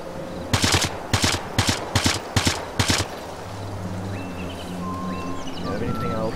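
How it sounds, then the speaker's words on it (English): Six evenly spaced loud muffled blasts from a silenced one-shot shotgun in the video game Sniper Elite 3, firing in quick succession over about three seconds, followed by quieter in-game ambience and tones. "it's like a silenced one-shot shotgun"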